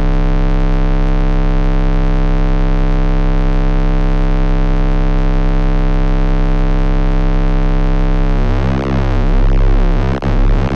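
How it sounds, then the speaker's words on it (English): Cavisynth synthesizer sound being modulated by a white noise signal: a dense, sustained buzzing drone of stacked harmonic tones, loud and steady, breaking into jittery, randomly shifting textures near the end. "You can also send the white noise signal directly to any parameter."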